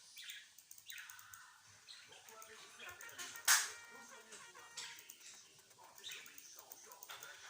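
Outdoor birds chirp faintly in scattered short calls, heard under and between a person's speech, with one sharp louder burst midway.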